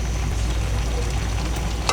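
Leafy greens (shak) fry in a pan with mustard oil, giving a steady, close sizzle with faint stirring scrapes and a brief sharper crackle near the end.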